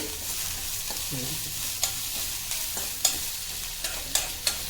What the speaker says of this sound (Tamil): இன்னும் நல்லா வறுபடணும். கீரை ஒரு மாதிரி சுண்டி வரணும்.